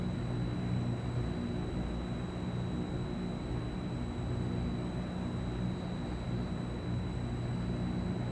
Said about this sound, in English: let's head in for a lovely touch and go in Stuttgart here